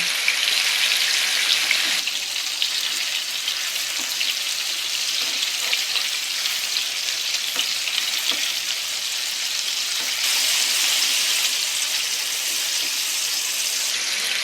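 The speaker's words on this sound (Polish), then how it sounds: "I teraz będę smażyć nasze kotlety na rumiano ze wszystkich stron." Minced meat cutlets stuffed with plum and wrapped in smoked bacon fry in a pan with a steady, crackling sizzle and popping fat, continuous and close, with no one speaking.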